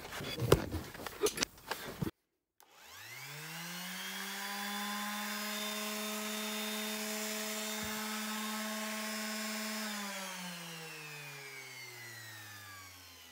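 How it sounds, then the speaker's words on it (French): An orbital sander spins up after cleaning and holds a steady high whine for several seconds, then winds down, heard close and alone after a few brief handling clicks. "tu vois que ma ponceuse fonctionne"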